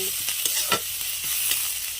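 Onion and grated ginger frying in hot oil in a pan, stirred with a spatula: a steady sizzle with several distinct scraping strokes, close and alone.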